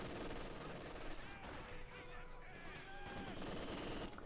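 Machine gun fire from a Maxim in the World War II strategy game Company of Heroes 2 rattles in sustained bursts amid other gunfire and battle noise, steady and dense throughout the clip.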